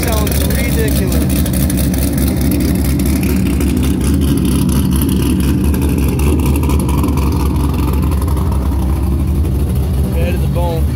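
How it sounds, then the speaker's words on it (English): A 2005 Corvette LS2 with a freshly installed Texas Speed Chop Monster Cam, old headers and a JEGS intake revs and rumbles loudly and continuously with a choppy idle, close by. "Freshly installed. Texas Speed Chop Monster Cam. This thing sounds ridiculous."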